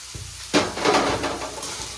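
Capsicum (bell) peppers tossed into a hot pan for a home-style dish, starting a loud close sizzle after a brief quiet moment, with scraping stir sounds and continuous frying crackle.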